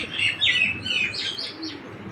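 A female pigeon calls close by in a loft kept for breeding, with a few soft, chirping coo-like phrases over low background noise.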